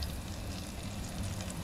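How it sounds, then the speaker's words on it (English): Crappie fillet searing flesh side down in a hot pan, giving a steady, soft sizzle that continues without pause for a short stretch. "Get the little sizzle going."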